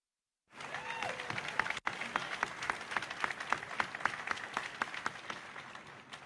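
A crowd at a Carowinds theme park ride event claps and applauds. The clapping starts abruptly, then holds as a dense, steady patter of many hands at moderate distance.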